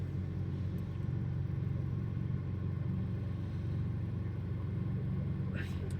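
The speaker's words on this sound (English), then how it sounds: "my steering wheel vibrates because the car's running" A parked car's engine runs at idle with the air conditioning on, a faint low rumble with a steady hum that vibrates through the cabin.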